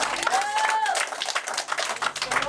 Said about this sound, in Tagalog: Isa pa nga palakpak para sa Panginoon.